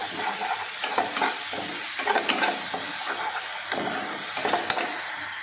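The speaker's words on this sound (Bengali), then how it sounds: "এবার এই টমেটো পিউরিটা দিয়ে দেবো, দিয়ে এবার কষিয়ে নেবো।" Tomato puree for chicken do piaza fries and gets stirred in a pan: a soft, steady sizzle with intermittent scraping strokes of a spoon, moderately close and fairly quiet.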